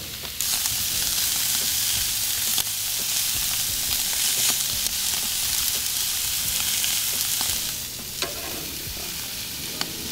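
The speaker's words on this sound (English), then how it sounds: "let's throw these burgers on" A5 Wagyu beef burgers sizzle on a hot grill, a loud steady frying hiss running throughout with a few sharp pops and crackles, close up and with no talk.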